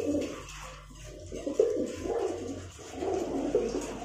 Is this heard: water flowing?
no